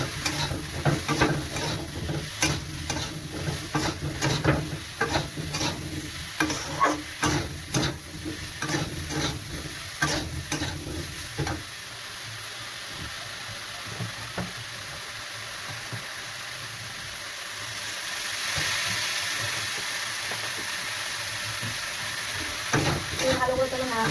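Cauliflower and potato with salt and turmeric sizzle in a pan while a spatula scrapes and stirs in repeated strokes, the stirring easing later into a steadier low frying hiss.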